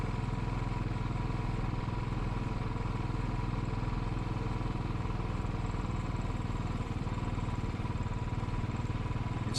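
A light motorcycle rides along a country lane with a steady, droning engine note and wind rush throughout, heard from the rider's position with no voices.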